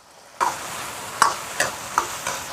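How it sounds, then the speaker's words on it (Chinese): Braised pork trotters are stir-fried over high heat with homemade chopped chili sauce, rapeseed oil, ginger, scallion and green peas, producing a sudden sizzle followed by several spaced scraping tosses of the spatula in the wok. "蹄花，继续用大火翻炒。"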